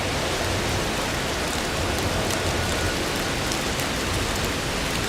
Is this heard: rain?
yes